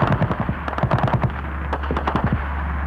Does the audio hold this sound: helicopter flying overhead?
no